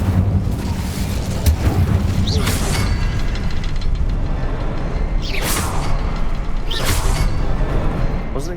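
A fire spell cast in Hogwarts Legacy gives loud, sustained roaring bursts and booming whooshes over a continuous rumbling bed, with no voices.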